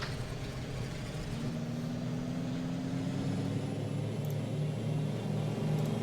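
Douglas DC-3 piston engines throttle up with the brakes set in the Prepar3D v4.5 flight simulator, a continuous droning rumble with a tone that slowly climbs, steady and unbroken, with no speech.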